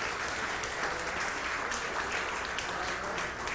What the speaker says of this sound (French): je vous demande d'applaudir mon amie Myriam pour ce magnifique travail.